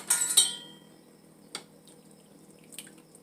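Pot roast liquid is ladled into dishes, starting with a short wet pour and clink, then falling quiet with a couple of faint drips and taps, close by with no talking.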